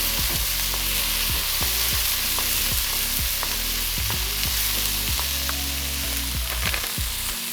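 Carrots and peas sizzle in a hot pan for special fried rice, a steady loud frying hiss with repeated scraping stirs and clacks of a utensil against the pan throughout.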